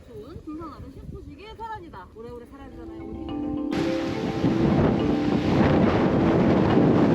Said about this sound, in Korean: 아 바람 미쳤다 미쳤다